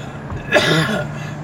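A single harsh cough bursts out near the mic, a short rough hack that fades quickly into a quiet background.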